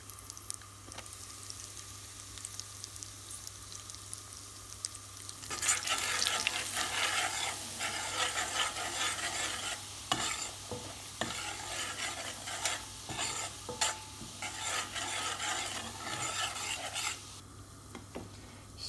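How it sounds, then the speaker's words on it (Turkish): Oil sizzles in a pot as a spoon stirs and scrapes steadily, the frying growing louder once flour is added to toast, continuous and close. "Şimdi üzerine bir buçuk yemek kaşığı un ekleyip unu güzelce kokusu çıkıncaya kadar kavuracağım."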